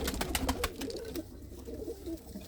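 A mated pair of kept pigeons, a cock and a hen, coos in low throaty rumbles close by, with a series of sharp clicks or taps early on and no talking.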